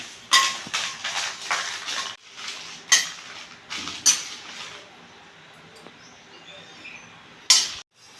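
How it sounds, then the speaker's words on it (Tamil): Dried chillies and cumin are dry-roasted in an iron pan without oil, with a spatula scraping and clattering against the metal in uneven bursts, close by, then a quieter stretch before a last sharp clank. "மிளகாயும் ஜீரகமும் வறுத்து எடுத்துக்குவோம்"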